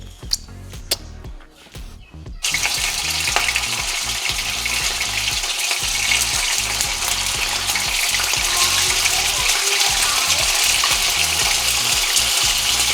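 Uncooked gyoza hit hot avocado oil in a pan. After a few soft handling knocks, a loud, steady sizzle starts and roars on without a break.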